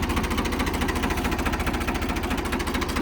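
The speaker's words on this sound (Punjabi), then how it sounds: "ਆਵਾਜ਼ ਚੈੱਕ ਕਰੋ ਟਰੈਕਟਰ ਦੀ" An old tractor for sale at a village in Ropar district, Punjab, runs steadily nearby, its engine thumping in a fast, even rhythmic knock with a heavy vibrating rumble and no speech.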